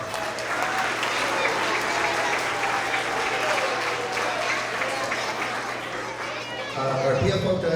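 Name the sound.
applause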